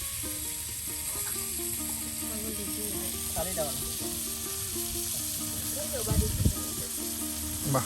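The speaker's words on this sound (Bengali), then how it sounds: "আর এদিকে মানিক ভাই মাছ ভাজি করতেছে" Pangas fish frying in oil in a pan in a Bangladeshi village kitchen, a steady close sizzle running throughout beneath faint background music and occasional clatter.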